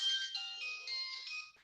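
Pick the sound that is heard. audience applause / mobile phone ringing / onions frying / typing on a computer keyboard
mobile phone ringing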